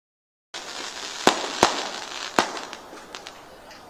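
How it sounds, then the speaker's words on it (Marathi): At a political rally in Pune, firecrackers go off as a string of sharp reports: three loud bangs followed by several fainter pops trailing away over a low background rumble. "फटाके बंद करा, फटाके"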